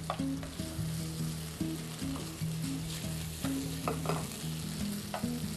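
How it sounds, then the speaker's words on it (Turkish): Beef pieces sauté over onions in a hot pan for beef stroganoff, a quiet close sizzle with repeated scraping stirs and clinks at an irregular rhythm, without any talk. "Et suyunu verene kadar biraz kavuruyoruz."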